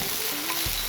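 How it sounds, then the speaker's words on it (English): Crushed tomato without chunks hits a hot frying pan, giving a steady close sizzle and spattering hiss that holds for under a second, with a low thump of the pan near the end. "So this is our crushed tomato, so that's the one without the chunks. So it's gonna splatter."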